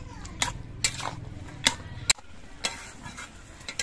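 Bottle gourd curry with fried lentil dumplings and a little sugar stirred in a pan, a spoon scraping and clinking against the metal in several sharp strokes over a low sizzle, close and alone.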